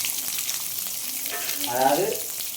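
Curry leaves sizzle in hot oil with already-fried spices for a chicken gravy, a close, steady frying hiss that swells into a louder crackling burst as the leaves hit the pan.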